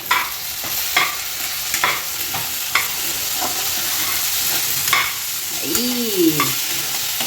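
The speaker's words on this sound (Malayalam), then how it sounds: "ആ മുളക് പൊടി ഇനി ഇട്ട് കൊടുക്കാം. എന്നിട്ട് നന്നായിട്ടൊന്ന് യോജിപ്പിച്ച് വിടാം." A spoon stirs chili powder into a mixture frying in a pan, giving repeated scraping strokes every second or so over a steady sizzle, close and fairly loud, with no talking.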